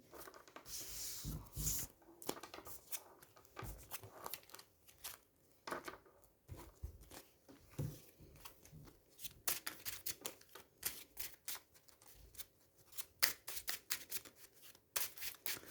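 Yu-Gi-Oh! playing cards being shuffled in repeated riffles and soft slides, with pauses between bursts, close and quiet, no voices.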